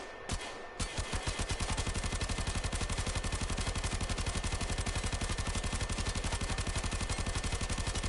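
The Tenora firing in Warframe on PS4 after a brief pause: a long, steady burst of rapid automatic shots in a tight, even rhythm, loud and close with no gaps or voices.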